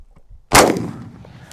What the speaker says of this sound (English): That's the first time ever shooting it off shoulder like that.